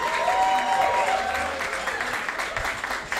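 A crowd claps and cheers loudly and steadily throughout at a beatbox battle quarterfinal in Sydney, with a brief tonal whistle or synth line early on under the noise.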